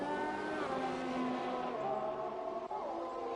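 A McLaren race car in a racing video game drives down a long straight toward a chicane, its engine a steady, loud high-pitched whine with shifting harmonics as it changes gear, heard alone without talk.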